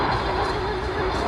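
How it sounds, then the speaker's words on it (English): A steady roaring drone of a military helicopter, loud and continuous, with a sustained engine hum running through it. "Here comes our helicopter coming in from the right, providing a little bit of extra aerial support."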